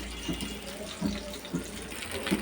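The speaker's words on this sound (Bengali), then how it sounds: "পেঁপেগুলোকে আমি ছোট করে কেটে খুব ভালোভাবে ধুয়ে নিচ্ছি" Tap water runs faintly and steadily as cut papaya pieces are washed, with soft splashy pulses recurring under the flow.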